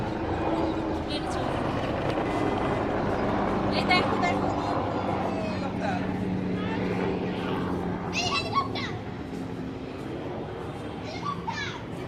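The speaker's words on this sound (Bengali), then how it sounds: "হেলিকপ্টার" A steady low mechanical drone of a helicopter passes overhead at a seaside resort in Cox's Bazar while children chatter and shout nearby.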